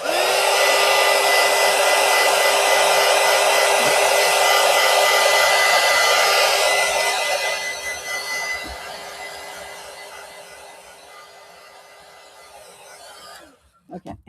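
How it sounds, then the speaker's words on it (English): A heat tool drying paint on a coloring project blows with a steady loud whoosh for about seven seconds, then fades and dies away, leaving near-quiet before a few faint clicks at the end. "I keep my heat tool unplugged when I'm not using it."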